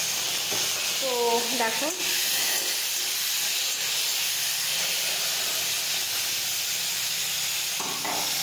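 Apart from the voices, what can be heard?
mustard seeds sizzling in hot oil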